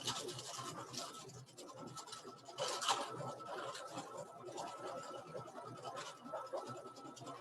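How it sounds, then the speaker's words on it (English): Embroidery machine stitching a design on sheer organza fabric: a quiet, steady, rapid scratchy needle patter that continues evenly with slight swells throughout. "while that's stitching, look how pretty that is."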